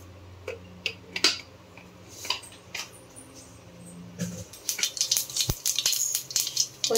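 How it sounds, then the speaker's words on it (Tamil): Mustard seeds sizzling and popping in hot oil in a pan, sharp crackling spits scattered at first, then a steady denser spattering crackle near and fairly loud toward the end, with no one speaking. "சட்டியை இப்போ நான் சூடு பண்ணிட்டேன், எண்ணெய் ஊற்றிருக்கேன். இப்போ கடுகு தாளிச்சுக்கலாம்"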